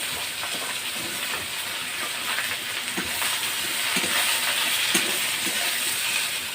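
Eggplant and sweet potato fry in hot oil with five-spice seasoning in a wok, producing a continuous close hiss and crackle that stays steady and slightly swells toward the end.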